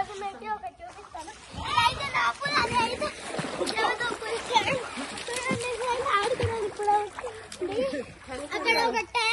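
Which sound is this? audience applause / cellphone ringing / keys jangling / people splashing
people splashing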